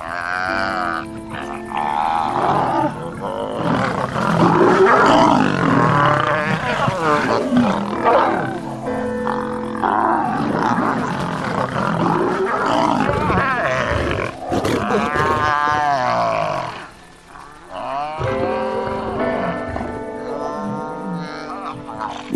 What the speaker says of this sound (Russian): Крики львицы, полные боли, заставляют баобабовый прайд остановиться